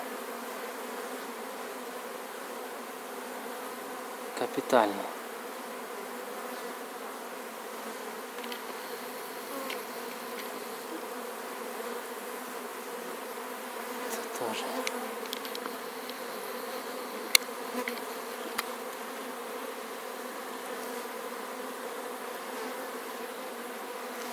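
A large, strong honeybee swarm hums steadily around the hive outdoors, a dense continuous buzz with individual bees passing close now and then.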